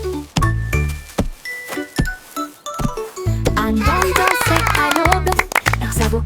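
Bells ring in bright, repeated chiming strokes within a lively children's nursery-rhyme tune, over steady music with a faint voice.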